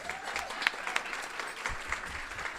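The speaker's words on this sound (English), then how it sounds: "So please, a round of applause for Rossana." Applause from a luncheon audience at a women's leadership celebration honoring Rossana Rosado, a steady wash of clapping from many hands filling the room, moderately loud and continuous with no voices over it.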